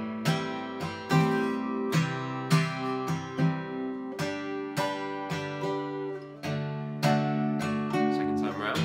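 Acoustic guitar strumming the pre-chorus of a song, with steady rhythmic chord strokes and ringing harmonics, played close and clear with no voices.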